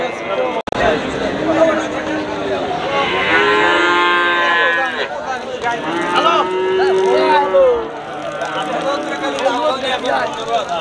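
Cattle, including heifers, moo loudly and repeatedly at a rural livestock market, with long drawn-out lowing calls close by and voices and crowd chatter in the background.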